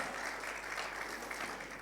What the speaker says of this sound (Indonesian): Tepuk tangan yang panjang bagi Tuhan Yesus Kristus